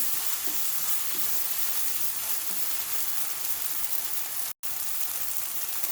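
Tofu scramble with turmeric cooking over medium heat in a pan, giving a steady, close, even sizzle with stirring throughout, broken by one brief dropout near the end.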